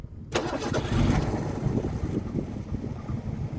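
A Ford Capri's engine cranks and catches at once, then settles into a loud, rough, close idle that keeps running steadily for a few seconds.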